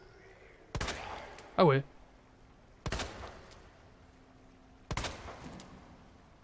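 Three sharp gunshots ring out at spaced intervals while shooting enemies in the Resident Evil 2 video game, loud and close, with a brief spoken exclamation between the first and second shots.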